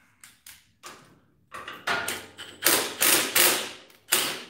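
A ratchet turns as a spark plug is threaded in, giving a series of sharp mechanical clicks and short bursts that start sparse and faint, then grow louder and closer together, with no voices.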